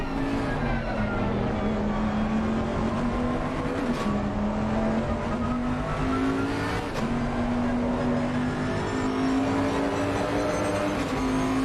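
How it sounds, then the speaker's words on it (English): Race cars in a sim racing game at Misano, continuous engine whine with pitch swells as cars jostle and pass, a steady dense drone throughout. "and one of the cars goes for a pass"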